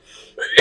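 A person coughs once, a sharp loud burst ending a brief breathy throat sound, close and alone.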